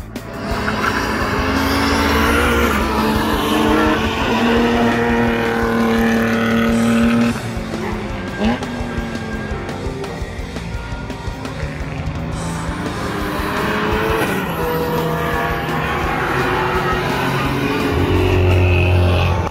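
Race car lapping a track during a Superlap event, its engine loud and close with rising and falling revs through gear changes and brief tire squeal, unbroken by talk.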